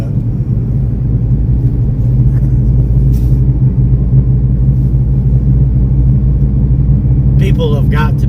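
A car hurrying along an icy, snowy road, a loud, steady low rumble of engine and tyres that holds throughout, with a brief voice near the end.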